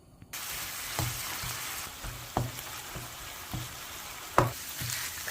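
Minced meat sizzling and frying in oil for Turkish rose börek filling, with a steady crackle, occasional stirring scrapes and clinks of a utensil against the pan.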